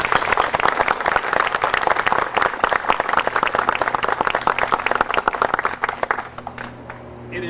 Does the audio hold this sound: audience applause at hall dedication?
yes